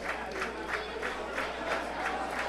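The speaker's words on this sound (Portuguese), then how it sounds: "A torcida do Guarani de Sobral vai torcendo o Bugre, vai aplaudindo." Guarani de Sobral fans in the stands at a Cearense Série B football match cheer and applaud continuously, a dense roar with rhythmic pulses of clapping and chanting that carries on steadily throughout.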